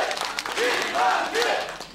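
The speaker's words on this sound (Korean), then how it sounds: "뜨거운 박수로 맞아주시기 바랍니다" A crowd at a Korean party convention in Ulsan applauds to welcome candidate Kim Han-gil onto the stage, with steady clapping layered with cheering voices and a few rising whistles.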